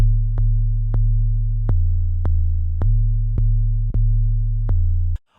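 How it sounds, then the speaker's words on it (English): Short, plucky synthesized 808 bass notes repeat in a steady rhythm, each a clicky attack followed by a deep sustained tone, loud and dry with no voices. "Do I just want this kind of plucky sound that's pretty common right now?"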